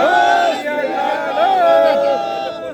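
A crowd at a Sikh gathering roars back in unison to the Bole So Nihal call, several drawn-out chanted shouts rising and falling close together over a couple of seconds.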